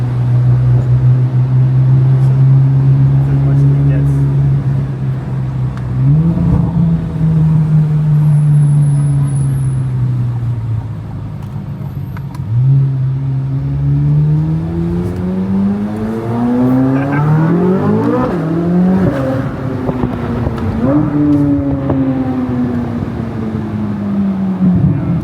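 A C8 Corvette Z06 revving hard while doing donuts on the street, its engine pitch rising and falling in repeated surges, loud and close, with tire noise throughout.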